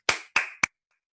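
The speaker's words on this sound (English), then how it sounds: "And if I start clapping," Three sharp hand claps in quick succession, loud and close, the first two evenly spaced and the last one shorter, then silence.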